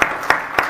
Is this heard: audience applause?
yes